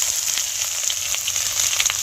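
Whole cumin, garlic paste and chopped onion fry in hot oil with a bright, steady sizzle and faint crackles, close up and without talking.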